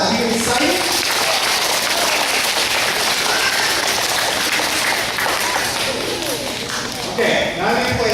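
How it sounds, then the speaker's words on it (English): A crowd gives a round of applause at a motivational talk, dense steady clapping filling the room close and loud with no break, a few voices faintly rising near the end. "Let's give a little round of applause."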